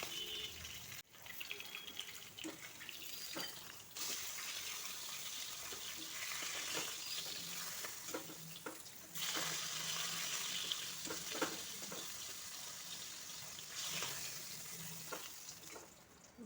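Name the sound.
rohu fish frying in hot oil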